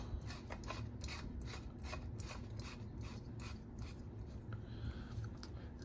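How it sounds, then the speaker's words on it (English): A GE 26-watt R30 CFL flood reflector bulb being screwed into a light socket, giving a quiet, close run of scraping, ratchet-like clicks and rubbing over a steady low hum. "Let's just get it in the socket and we'll take a further look."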